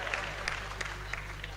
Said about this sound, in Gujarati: બહેનો ને તાળીઓથી વધાવો